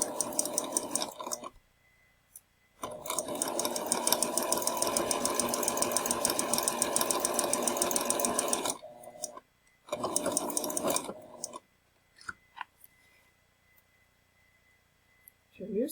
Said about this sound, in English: you're going to sew right along that folded edge, like so, close to the edge